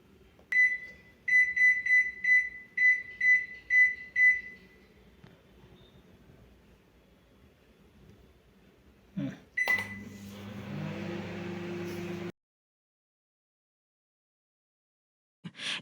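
An IFB microwave oven on its grill setting gives a run of about eight sharp, evenly spaced beeps, then a short hum and a mechanical clunk as grilling starts, followed by silence.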